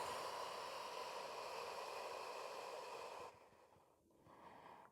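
A long, steady exhale during a floor exercise session, with sustained airy breath noise that stops abruptly near the end and leaves quieter room hiss behind it.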